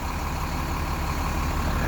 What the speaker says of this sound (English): All right, so if you can hear me, got the engine running